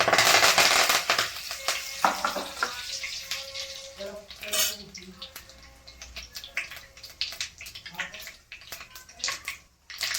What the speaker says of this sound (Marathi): आता याच्यात मोहरी घालून घेऊ थोडीशी हे जिरी टाकली कढीपत्ता